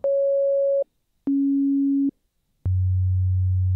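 Three pure sine-wave tones from a Korg MS2000 synthesizer in sequence, each held steady for about a second, stepping down from a mid pitch to a low hum, with short silences between.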